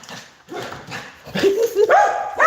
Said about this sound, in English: Let me let these dogs out the house.